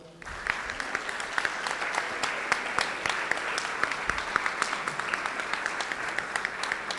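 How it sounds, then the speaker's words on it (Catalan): A hall audience at the opening ceremony of a crime-fiction festival applauds a poetry prize winner, with sustained clapping and sharp individual claps standing out throughout, steady and fairly close. "Primer premi de poesia criminal al Mònic, un fort aplaudiment, sisplau."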